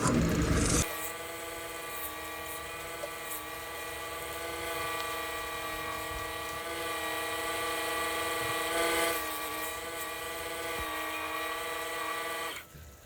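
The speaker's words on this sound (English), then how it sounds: "I'll continue sanding" A lathe spins a spalted sweetgum bowl as it is sanded, giving a steady whirring hum that holds almost unchanged for about twelve seconds before stopping, preceded by a brief burst of noise.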